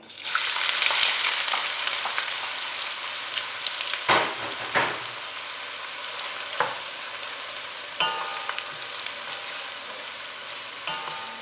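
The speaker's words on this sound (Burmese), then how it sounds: "စီပူလာပြီဆိုရင်တော့ကြက်သွန်နီလေးထည့်ချပြီးကြော်ပေးပါမယ်ရှင်" Onions tossed into hot oil over high heat for a Burmese pork ball curry, crackling and sizzling loudly at first and then settling into a steady fry with occasional stirring scrapes.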